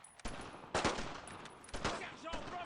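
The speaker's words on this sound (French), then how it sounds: "Là par exemple il vaut clairement mieux que j'abatte l'ennemi." Gunfire in the World War II shooter game Brothers in Arms: several loud close gunshot bursts with a ringing tail between shots, in a cluttered game soundscape.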